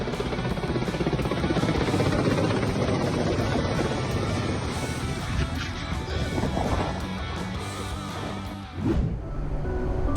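A Ka-52 attack helicopter's loud, steady rotor roar dominates throughout, with wind buffeting the microphone and a brief dip in intensity near the end.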